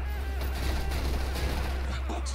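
MP7A1 submachine gun, a German Heckler & Koch design, firing in the shooter game S.K.I.L.L. Special Force 2: dense, continuous automatic bursts with sharp cracks, loud and close throughout.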